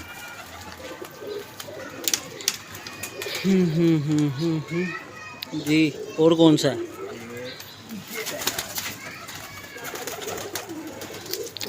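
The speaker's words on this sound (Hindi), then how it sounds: "कबूतर तो अंदर काफ़ी सारे ही हैं" Pigeons in a loft give low, rolling coos in a couple of clear bursts, fairly close, while people talk around them and children's voices mix in.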